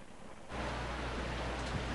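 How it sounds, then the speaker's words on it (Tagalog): Heavy, unceasing rain in Pampanga during a declared state of calamity, starting abruptly after a brief quieter moment and then roaring as a dense, steady wash close by. "walang tigil yung malakas na ulan dito mula pa kagabi hanggang ngayong umaga"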